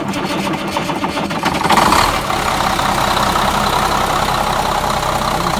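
The Cummins diesel engine of a 1997 Gillig city bus cranks and catches, then settles into a loud, steady rumbling idle.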